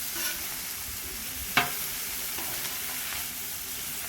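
Browning shredded pork sizzling steadily in a hot pan, with one sharp scrape of a utensil as it is flipped and a few softer stirring sounds under the constant frying, no talk.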